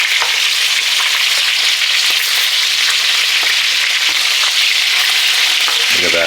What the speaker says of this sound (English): Getting a nice fry on there.